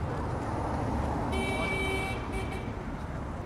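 An electric Harley-Davidson motorcycle horn sounds in two short tonal bursts over steady road and traffic noise, fairly close and moderately loud.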